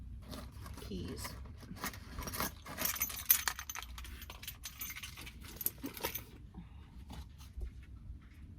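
A ring of keys jingles and clinks in short irregular bursts at close range inside a van, with occasional soft handling thumps and no talking.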